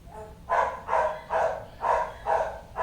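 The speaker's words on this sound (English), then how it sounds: "I just wish that dog would stop because he's very annoying." A neighbour's dog barks steadily in the distance, five or six evenly spaced barks at a regular rhythm, muffled and moderately loud over a low background hum.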